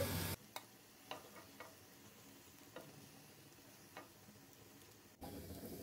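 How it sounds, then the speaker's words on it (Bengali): Cauliflower pakoras deep-frying in oil over a low to medium flame, a quiet steady sizzle broken by a few soft clicks and taps, with brief louder noise at start and end. "চুলা লো টু মিডিয়াম ফ্লেমে রেখে একটা গোল্ডেন ব্রাউন কালার করে সবগুলো ফ্রাই করে নিচ্ছি"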